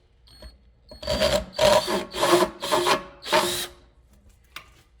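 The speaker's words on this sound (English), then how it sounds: "And let's drill some pilot holes." A power drill whirs in five short bursts close by, drilling pilot holes in wood, each a couple of seconds or less, with brief pauses between them.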